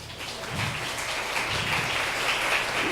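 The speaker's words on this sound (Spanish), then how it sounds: "Denle fuerte aplauso al Señor." A church congregation breaks into sustained applause, many hands clapping together in a dense, steady wash of moderate loudness without talk.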